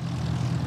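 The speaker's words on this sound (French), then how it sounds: "à bord de son Broussard, un avion de collection" Vintage 1958 Broussard propeller aircraft at the Nuits-Saint-Georges airfield, its piston engine droning with a loud, steady low rumble up close.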